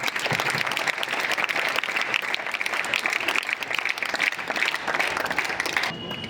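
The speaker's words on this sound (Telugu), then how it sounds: "ఒకసారి గట్టిగా చప్పట్లు కొట్టాలి" An audience at a school charity event bursts into loud, sustained applause, dense clapping filling the whole stretch before easing off at the very end.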